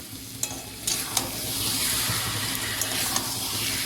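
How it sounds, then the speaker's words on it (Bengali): Boiled chickpeas tumble into a hot pan of spices and are stirred, giving a steady close sizzle with scraping and clinking of the spoon against the pan. "তো এবার এর মধ্যে আমরা সেদ্ধ ছোলাগুলোকে অ্যাড করে দেবো"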